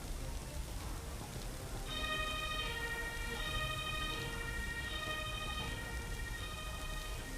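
A distant ambulance siren in a video game wails in a repeating high tone over a steady wash of rain-like background noise.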